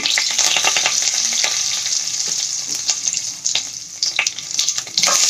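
Cumin seeds and curry leaves hit hot oil with a loud, bright sizzle that spits and crackles, easing slightly then flaring again with sharp bursts toward the end, no talking.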